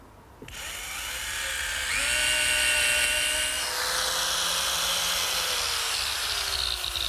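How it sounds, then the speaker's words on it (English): A power drill drives screws into a one-inch wooden cleat on a redwood arbor post, its motor whining up in pitch and holding steady close by for several seconds, with no one talking. "Next, I attach this 1-inch cleat to the post with some screws."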